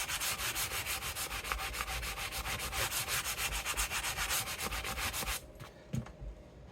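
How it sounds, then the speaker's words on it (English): Steady back-and-forth rubbing of a sanding block scuffing the metal frets of a Gibson Les Paul guitar, a rhythmic gritty scrape that stops abruptly near the end, followed by a light knock. "that's with one of these, sanding block. Scuff them up."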